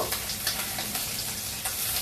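Steady, crackling sizzle of large pieces of ash gourd frying in hot oil in a pan, close and continuous, with occasional louder spits.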